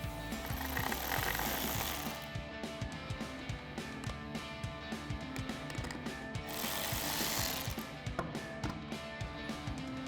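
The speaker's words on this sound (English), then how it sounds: "Then we can tighten that down using our 8mm socket on our ratchet." Ratchet with an 8mm socket tightening a cold air intake bolt on a Toyota Tundra, steady close clicking in a running rhythm over a constant loud background hum, with brief surging swells.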